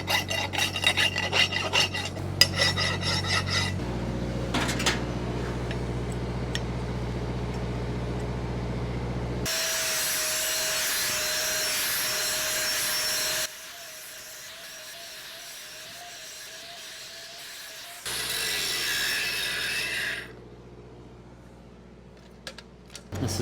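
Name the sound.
squaring up the cut pipe bevel by hand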